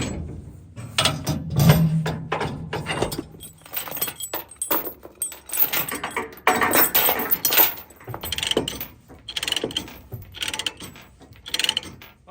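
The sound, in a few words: ratchet straps tying down a skid steer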